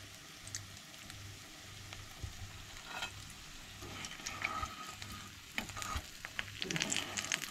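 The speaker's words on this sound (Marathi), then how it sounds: "हे पळय दोनूय सायडींचो अशें फ्राय करून घेवंक जाय." Kingfish rava fry crackling in oil in a pan, a soft continuous sizzle with occasional stirring scrapes, fairly quiet and close, with no talking.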